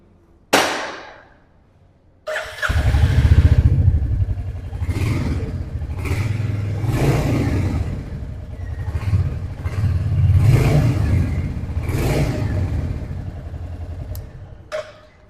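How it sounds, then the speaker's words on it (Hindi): A Royal Enfield Hunter 350 motorcycle starts with a sharp crank, then settles into a deep, bassy single-cylinder exhaust thump, revving up and down several times close by. "एक थंपी एक बेसी साउंड जो है वो इसकी एग्जॉस्ट नोट"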